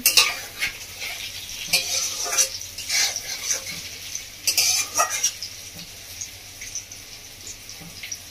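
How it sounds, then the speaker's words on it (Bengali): Pointed gourd (potol) frying in a pan, with a steady close sizzle under repeated stirring and scraping of a utensil against the pan, loudest early and easing toward the end. "পটলটা ভাজা ভাজা হয়ে গেছে"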